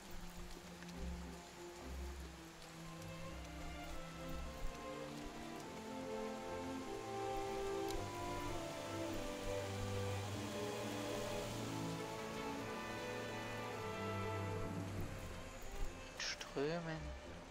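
Steady rain patter in Monster Hunter: World with game music tones underneath, continuous and fairly even throughout, with a brief rising sweep near the end.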